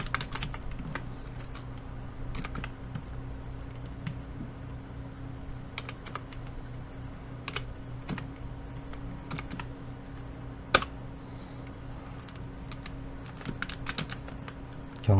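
Steady typing on a computer keyboard while entering data into a spreadsheet, with close, crisp key clicks in an uneven rhythm and one sharper keystroke standing out.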